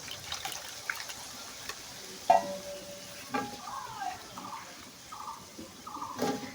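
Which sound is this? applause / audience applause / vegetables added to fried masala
vegetables added to fried masala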